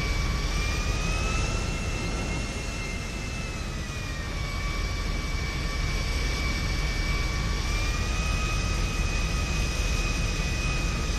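Jet aircraft engine in the video game GTA 5, a continuous loud roar with a steady high whine that slowly shifts pitch, sustained for the whole stretch with no talk.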